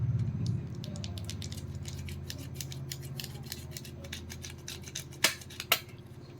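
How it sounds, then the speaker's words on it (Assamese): Mozzarella cheese grated by hand against a metal grater for a homemade pizza, giving a steady, close scraping and rasping that runs throughout, ending with a couple of sharper clacks. "এই চীজটো মই এতিয়া গ্ৰেট কৰিম।"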